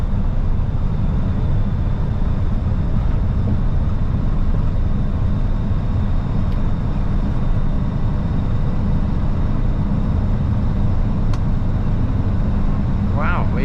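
Steady loud road roar from inside a truck cab on a frozen highway while overtaking a Porsche, a continuous rumble with brief voice sounds near the end.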